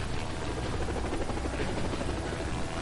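A helicopter in the video game Renegade Ops: a loud, steady rotor roar with dense broadband noise and a constant throbbing buzz, with no pauses.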